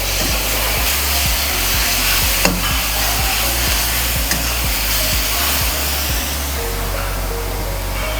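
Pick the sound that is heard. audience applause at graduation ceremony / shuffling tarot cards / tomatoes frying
tomatoes frying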